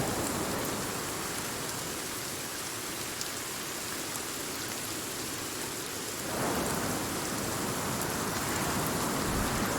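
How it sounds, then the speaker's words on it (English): Heavy rain and wind in the game Sons of the Forest, a constant dense hiss of rainfall that swells louder partway through, steady and enveloping with no voices. "the rain and the wind is going to make it hard to hear me"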